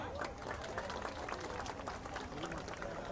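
A crowd claps and cheers at an outdoor cooking event in Padang, a continuous busy wash of applause at moderate distance with no clear pauses.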